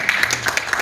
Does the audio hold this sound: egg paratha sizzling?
no